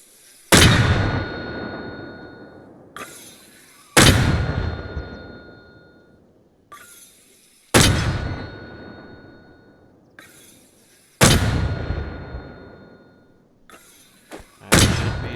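Four heavy M252 mortar rounds fire in Arma Reforger, each a sharp booming launch with a long decaying tail, spaced roughly three to four seconds apart, with lighter thuds of the next round being loaded between shots.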